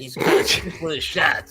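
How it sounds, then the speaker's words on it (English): A puppy barks in the background, with short yips breaking through under steady, close speech from someone talking over it. "if you hear that barking, that's my puppy in the background"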